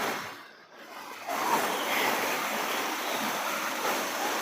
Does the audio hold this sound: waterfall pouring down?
yes